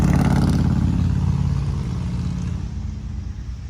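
2008 Chevrolet Trailblazer SS engine with a misfire, revving high and loud and then easing down into a lower rough drone, heard close with no talk.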